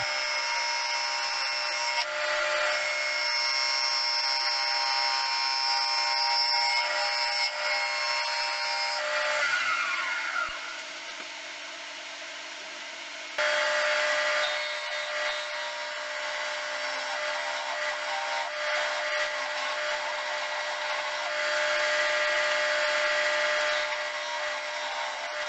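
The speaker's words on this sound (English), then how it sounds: "Interesting turning these two hardwoods together." A wood lathe turning a glued-up blank of purpleheart and yellowheart hardwood gives a steady, loud tonal whine and scrape that dips briefly around the midpoint, then resumes just as strongly for the rest of the clip.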